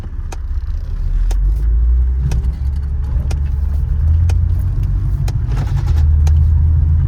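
A 2003 Mercedes C320 coupe with a 3.2-liter V6 and a slightly leaking head gasket drives around the block, its engine giving a steady low rumble inside the cabin, punctuated by regular clicking ticks.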